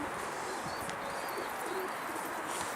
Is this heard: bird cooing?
yes